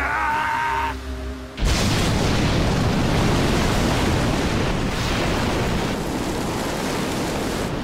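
A massive anime explosion from the Bleach battle between Aizen and Yamamoto erupts after a brief tonal lead-in, becoming a loud, sustained roaring rumble that fills the rest of the scene.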